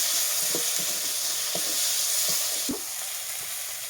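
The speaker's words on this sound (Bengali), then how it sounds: "টমেটোটা বেশ খানিকক্ষণ আমি নেড়ে চেড়ে নেব" Tomato stirred and frying in a pan with turmeric, a steady broadband sizzle running throughout with soft, scattered stirring scrapes and knocks, close and fairly quiet.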